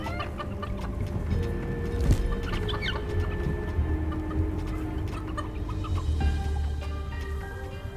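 Chickens cluck in the video game Dungeons 4, several short calls over a dense, busy game soundscape with steady background music and effects throughout.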